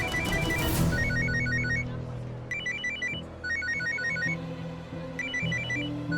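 An incoming call sets off a telephone ringtone in a Hindi TV drama, with a repeating melodic chime pattern sounding in regular bursts over background music.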